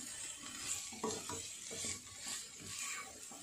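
Baby potatoes stirred in a frying pan with coriander, soft sizzling under a few scraping and clattering stirs, close but fairly quiet and without talk.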